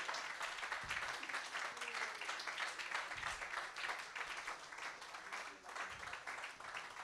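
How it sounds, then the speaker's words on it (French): A church congregation applauds at a Sunday Christmas service, steady mixed clapping that carries through the whole stretch at a moderate distance. "Si on peut acclamer pour notre Dieu"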